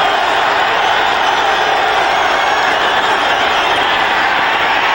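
A football stadium crowd at a 1993 Dallas Cowboys at Atlanta Falcons game roars on third down, a loud, dense and unbroken wall of cheering and noise throughout.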